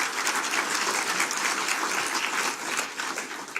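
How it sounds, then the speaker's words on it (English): An audience at an economic address in a venue breaks into sustained applause, dense clapping from many hands filling the room evenly, close and loud throughout. "Let's give them all a round of applause."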